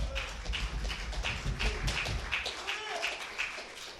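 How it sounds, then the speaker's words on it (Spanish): A church congregation applauding through a sermon, a steady mid-distance spatter of clapping with soft room echo and no voices over it. "si ese aplauso es para el Señor"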